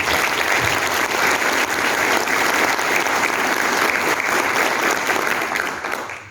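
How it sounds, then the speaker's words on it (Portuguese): Audience at a business panel event on ESG practices gives a sustained round of applause as a company director is invited on stage, continuous dense clapping holding steady for several seconds before tapering at the close. "Uma salva de palmas."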